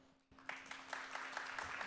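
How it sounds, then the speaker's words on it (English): Audience applause after a panel discussion on workforce needs and the classroom, a quiet, steady patter of clapping from a modest crowd starting abruptly and continuing over a faint hum. "a big round of applause for such an amazing panel and moderation"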